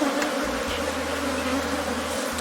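A dense, steady buzz of many honey bees at an apiary in Cameroon fills the air close by, continuous and loud with no voices.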